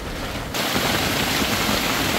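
Heavy rain pours onto a leaky makeshift shelter on a deserted island during a storm, a dense steady hiss that suddenly swells louder after a brief quieter start and keeps roaring close by with no talk.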